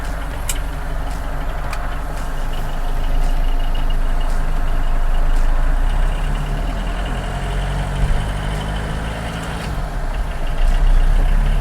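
A Fiat Premier 138D car with its Fiat 118NE diesel engine runs steadily, a loud, continuous low rumble with a clattery idle character and occasional faint ticks, heard alone without talk.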